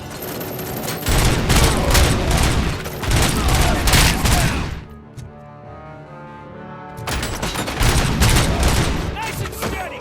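Police officers firing guns in a RoboCop scene: loud, dense bursts of gunfire for several seconds, a brief lull, then the volley resumes hard and close.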